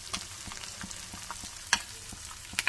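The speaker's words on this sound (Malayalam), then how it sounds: "അങ്ങനെ മീൻ വറുത്ത് എടുത്തിട്ടുണ്ട്." Sardines fry in a pan with a steady crackling sizzle, broken by sharp spits and pops, a few louder bursts near the end; no one speaks.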